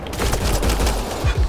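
Rapid bursts of gunfire in the sci-fi shooter Mass Effect Andromeda, a dense, continuous fusillade of repeated shots with heavy low-end thumps throughout, loud and close with no speech.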